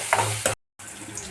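Tomato gravy cooks in a pan with a steady sizzle and stirring scrapes, broken by a short silent gap before the frying continues.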